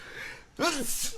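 A single sharp sneeze bursts out midway, loud and close, following quiet breathing and trailing into a brief exhale.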